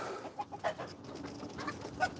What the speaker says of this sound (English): Chickens are getting ready to go to bed for the night.